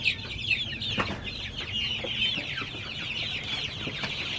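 Small chicks cluck and peep in a busy, overlapping chatter, with occasional sharper calls standing out above the steady flock noise.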